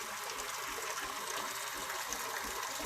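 Strong water flow driven by a 220-volt booster pump, a dense, continuous gushing rush of water, close and steady throughout with no pauses.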